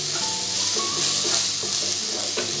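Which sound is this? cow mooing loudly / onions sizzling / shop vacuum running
onions sizzling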